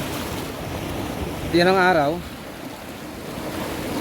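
Noisy sea waves break at the shore of the Maragondon sanctuary, a steady, loud roar mixed with wind buffeting the microphone, while a voice speaks briefly partway through.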